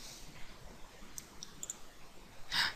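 A computer mouse gives a few faint, separate clicks while saving and running a program, set against a quiet room hiss, with a slightly louder click near the end.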